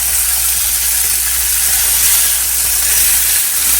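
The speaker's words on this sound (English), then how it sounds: "And you can hear the sizzle already." Loud, steady sizzling of fish fillets frying in a pan, a continuous bright crackling hiss with no talking.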